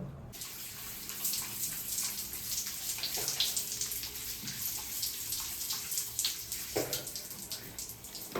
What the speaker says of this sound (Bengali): একদম পুরো নর্মালভাবে যেমন আমরা স্নান করি সেইভাবে স্নান করে নেব